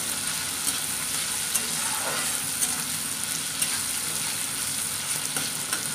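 Ginger frying in a pan for a green papaya dish, giving a steady loud sizzle with soft stirring scrapes throughout, no voices.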